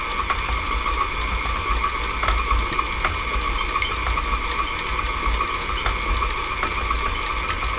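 Room-temperature water runs steadily into a mixing bowl for buttercream with a continuous splashing trickle, mixed with a faint rhythmic mechanical whir of a mixer nearby, no voices.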